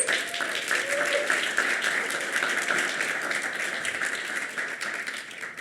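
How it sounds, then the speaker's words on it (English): Audience applause after a lightning talk at an engineering school event: steady, moderately loud clapping from many hands with a faint voice near the start, slowly thinning toward the end. "Let's give them a round of applause."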